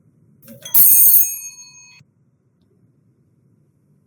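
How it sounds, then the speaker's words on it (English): A bright, ringing timer bell sounds once to mark the end of a question's answer time in a school quiz, loud and close, then rings out and fades into silence. "As you heard the bell, time's up."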